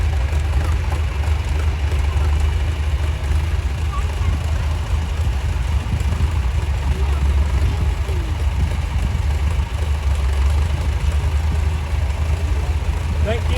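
A steady low tractor engine idles and rumbles continuously, loud and close, with no pauses throughout, at a farm days parade.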